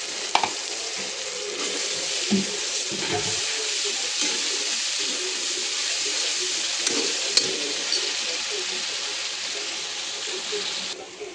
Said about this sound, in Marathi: हे घालूया आपण ह्याच्यात चांगलं परतून घेऊ